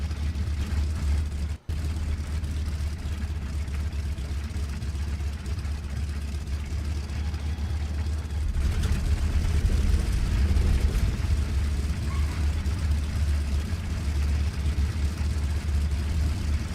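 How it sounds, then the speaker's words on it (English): Aircraft engines warming up in IL-2 Cliffs of Dover, a steady low droning rumble that holds constant and swells louder midway as the engines rev. "Get engines warmed up."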